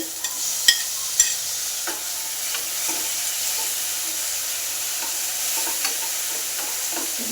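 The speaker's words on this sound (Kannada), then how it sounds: "ಇದನ್ನು ಸ್ವಲ್ಪ ಉಳ್ಳಾಗಡ್ಡಿ ಹಸಿ ವಾಸನೆ ಹೋಗೋಕ್ಕೂ ಹುರಿಬೇಕು" Onions fry in a pan with a steady, crackling sizzle, close by. A couple of sharp utensil taps sound early on, then faint stirring scrapes come and go under the hiss. No one speaks.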